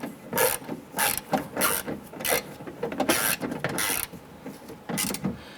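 Screws being snugged down on the exterior driver's-side door handle of a 2005-2010 Chrysler 300, heard as a series of short, close rasping and ratcheting bursts in quick, uneven rhythm, with no talking.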